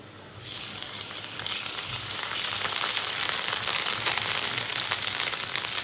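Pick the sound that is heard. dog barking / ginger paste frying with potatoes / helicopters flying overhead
ginger paste frying with potatoes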